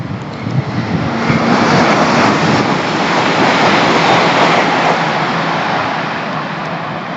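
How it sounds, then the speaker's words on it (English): A train rushes loudly through Southall station on the Great Western Main Line, a steady roaring wash of engine and wheel noise close by that swells and then holds before easing slightly toward the end. "Not sure what that train was."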